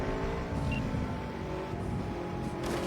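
Car engine hum with tire and road noise while driving in Cyberpunk 2077, steady and moderately loud with faint high game tones, no talk.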